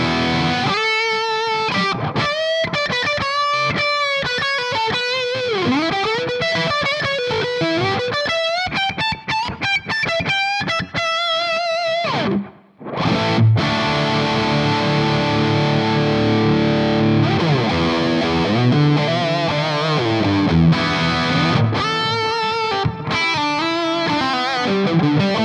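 Heavily distorted electric guitar through a high gain amp setting on a Tonex, playing sustained riffs and bends loud and steady, with a short dropout halfway before a thicker chordal passage resumes.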